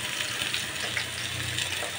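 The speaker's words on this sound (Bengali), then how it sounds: "এখন একটু মাছ ভাজি করলাম। ভাজি করছি" Fish frying in a pan after being kept in the fridge, a steady close hiss and crackle that runs evenly through the whole stretch without any voices.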